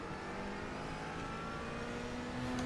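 GT4 race car in the iRacing sim accelerating off the start at the Adelaide Street Circuit, a steady loud engine drone building in pitch, with no talk over it.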